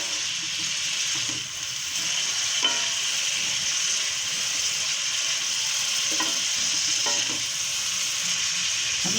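Spiced chicken samosa filling with carrots sizzles steadily in a hot pan as it is sautéed, a continuous close frying hiss with a few faint stirring clicks and no talk.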